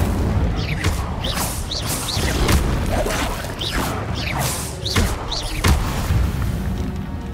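Fire spell Incendio cast in Hogwarts Legacy, a run of whooshing bursts and booming impacts repeating about every second, loud and close, with dense rumbling game effects between them.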